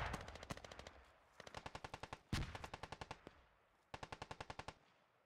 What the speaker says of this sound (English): David, we're getting shot at by, like, all sides right now